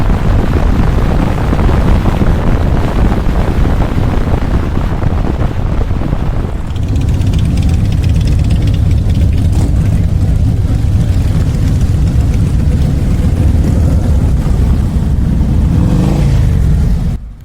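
A Harley-Davidson Road Glide motorcycle rides along with a loud, steady engine drone and heavy wind buffeting, the tone shifting briefly as throttle changes midway.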